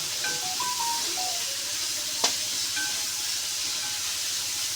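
Onions sautéing in a pan for a Kerala-style beef fry: a faint, steady hiss of frying with a few brief chirps and one short sharp crackle midway.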